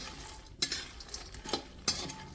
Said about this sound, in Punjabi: ਆਪਾਂ ਜਿਹੜਾ ਫੁੱਲ ਮਖਾਣੇ ਸੀ ਉਹ ਵਿੱਚ ਪਾ ਲਾਂਗੇ ਆਪਾਂ ਅੱਧਾ ਪੈਕੇਟ ਫੁੱਲ ਮਖਾਣੇ ਦਾ ਪਾਵਾਂਗੇ ਇਹਨਾਂ ਨੂੰ ਕ੍ਰਿਸਪੀ ਕਰਾਂਗੇ